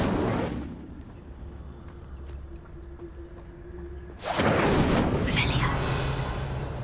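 Incendio fire spell going off in Hogwarts Legacy on the Switch: a quiet lull, then a sudden loud roaring blast of flame that flares and lingers, with a spoken word just before.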